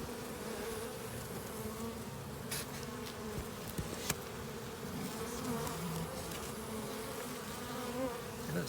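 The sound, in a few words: honey bees buzzing in hive during thermal treatment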